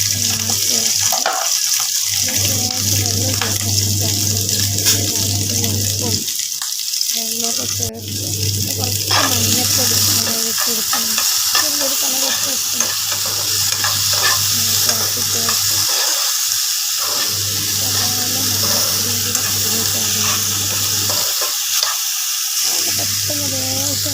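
Mustard seeds, grated coconut, chili and onion fry together in coconut oil, a loud continuous crackling sizzle with frequent stirring scrapes, while a person talks over it at intervals throughout.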